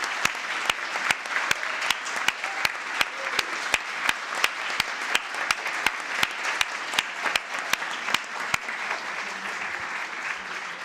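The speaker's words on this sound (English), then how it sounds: "So Valeria, please, a loud applause" Audience applause at an international scientific meeting in Florence, sustained dense clapping from a crowd with a few sharp, louder claps standing out, steady throughout.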